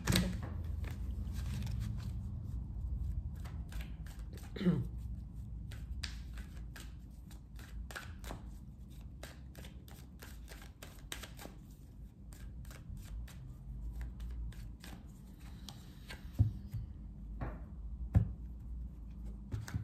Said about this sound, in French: On va battre les cartes